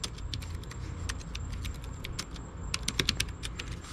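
Rapid clicky keystrokes on the mechanical keyboard built into a Gigabyte Aorus 15G laptop, close up, in uneven bursts over a low rumbling background hum.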